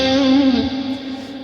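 Sustained electric guitar lead notes ringing through a LUMOS Space plate-style reverb, bright and smeared with a long, dense wash that holds steady, then thins and decays as the notes fade.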